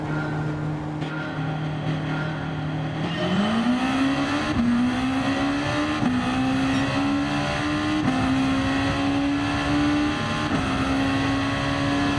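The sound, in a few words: race cars racing at Suzuka Circuit, from a racing video game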